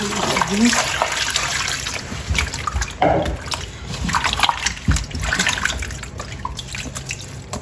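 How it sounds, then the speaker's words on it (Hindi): Potatoes and capsicum are washed under running water, giving a steady close splashing and trickling with a few sharper splashes as the vegetables are handled. "इनको मैं 2-3 पानी से धो लूँगी।"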